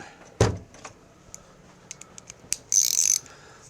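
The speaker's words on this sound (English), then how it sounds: "We need a ratchet. 3/8 socket." A hand ratchet with a 3/8 socket works bolts loose on a Craftsman riding mower: scattered metallic clicks and knocks, a sharp clunk early on, then a brief rapid burst of ratcheting near the end, with no voices.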